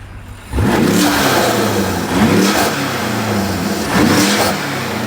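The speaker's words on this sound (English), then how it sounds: "The car now sounds amazing with that MST intake, which is going to help the car breathe easy." BMW F90 M5 with an MST intake revving hard in three loud, close bursts, each climbing in pitch and falling back to a rumbling idle between them.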